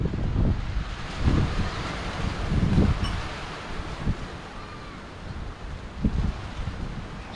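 Steady wind gusts buffet the microphone at a beach campsite, a rough low rumble that swells and eases over several seconds, with no voices heard.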